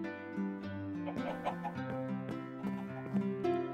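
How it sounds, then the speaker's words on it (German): A chicken in the Minecraft video game clucks in short, repeated bursts mixed in with tonal game music and sound effects. "Was macht das Huhn hier drin?"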